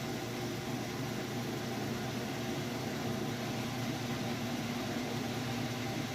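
A Kenmore top-load washing machine spinning fast during a demo, giving a steady, even mechanical whir and hum with no breaks, fairly close and alone without talk.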